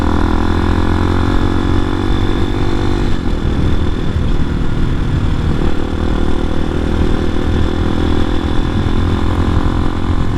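The steady, loud drone of a 250cc enduro motorcycle engine rolls on while riding downhill with the throttle eased off, its pitch shifting slightly midway as the bike slows.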